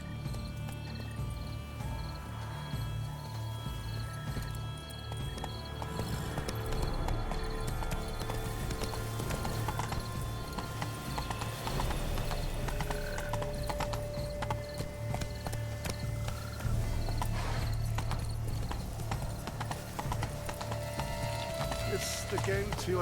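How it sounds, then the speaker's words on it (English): Horse hooves gallop in a steady, rapid clip-clop rhythm through The Witcher 3: Blood and Wine, holding close and continuous over a constant bed of game ambience and music. "Be better off on horseback."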